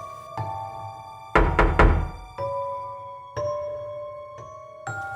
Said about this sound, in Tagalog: may 3 malakas na katok sa kanyang pinto.